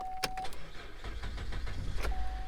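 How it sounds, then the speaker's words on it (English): A GM crossover engine with a failing alternator cranks and catches roughly, a low rumbling engine sound close by with a brief whine, heard alone. "Car barely starts, barely runs"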